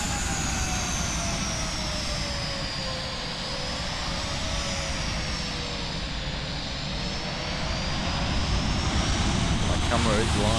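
A Ryanair airliner takes off from Lanzarote airport, picked up by the webcam as a steady, roaring jet engine rumble that swells slowly with a faint, gliding whine on top across the whole stretch. A voice talks quietly in the background.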